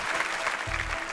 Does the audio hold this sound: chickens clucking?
no